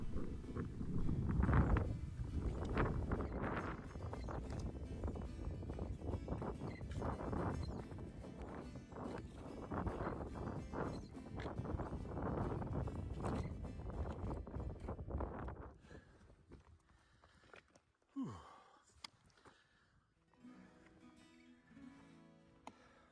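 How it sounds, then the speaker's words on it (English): Gusting wind buffets the microphone on an exposed mountain walk up Mt Rufus, a loud steady roar for about fifteen seconds before easing to quieter, intermittent gusts. "As we eat, the wind picks up and the temperature drops."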